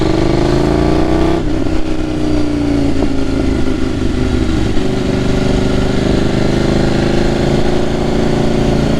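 A motorcycle fitted with a quickshifter accelerates hard on a country road in Belgium. The engine pitch climbs, then drops sharply at a gear change before pulling on with a loud, close, sustained roar and no talk.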